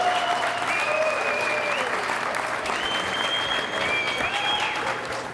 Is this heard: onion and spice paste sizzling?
no